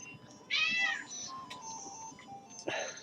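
Pet cat indoors by a door, meowing in a couple of clear, fairly close calls, one drawn-out and one shorter, over faint room noise and quiet background sounds.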